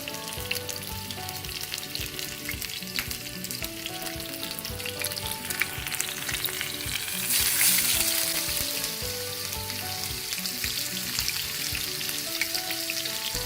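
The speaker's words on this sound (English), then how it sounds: "So we're going to gently lower pieces of our fish." Pieces of spicy red snapper deep frying in oil at medium heat, a steady crackling bubble heard over background music, swelling briefly louder midway.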